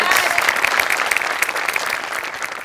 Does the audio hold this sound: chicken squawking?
no